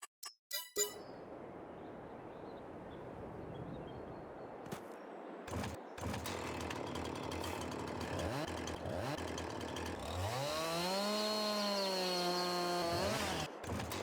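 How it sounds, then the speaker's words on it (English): A chainsaw in Farming Simulator 22 starts up and revs, then bites into a hedge on the Maypole Farm map, its loud buzzing engine rising and falling in pitch through several cuts, with no voice. "Let's go in here and get our chainsaw."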